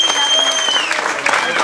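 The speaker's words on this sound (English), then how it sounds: "Big round of applause for your volunteers. Make some noise." An audience at a live hypnosis stage show applauds, a dense, loud wash of clapping that carries on steadily with a bit of crowd noise mixed in.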